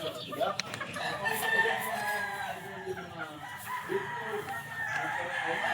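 A game fowl broodcock at a game farm crows in long drawn-out calls with some clucking, fairly close over a low outdoor background.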